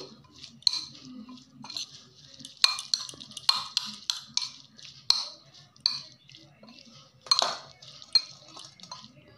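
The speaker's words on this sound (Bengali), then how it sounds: "আর দিচ্ছি লেবুর রস। সবগুলো ভালো করে এভাবে মিশিয়ে নিচ্ছি।" A spoon stirs chickpea chaat with lemon juice and tamarind water in a bowl, giving repeated close clinks and scrapes of metal on the dish in an uneven rhythm between quiet pauses.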